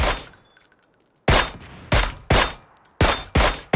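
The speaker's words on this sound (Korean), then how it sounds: "방금 들은 총소리 있죠." Gunfire in the video game PUBG: about six loud, sharp bursts of shots at irregular intervals, each ringing out briefly before the next, with no talking.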